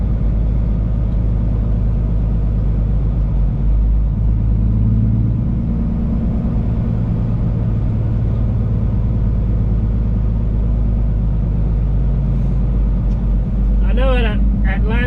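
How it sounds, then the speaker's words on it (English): Road traffic rumbles steadily around a truck heading toward the Baltimore port near the collapsed Francis Scott Key Bridge, a continuous low engine drone with a brief higher whine near the end; a voice talks over it. "I don't know where all this traffic's going."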